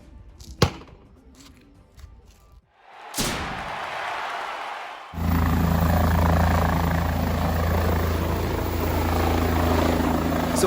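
Helicopter lifting off from a mountaintop resort in Kenya. After a few sharp knocks and a quiet lead-in, the rotor swells into a loud, steady, close roar that fills the rest of the stretch.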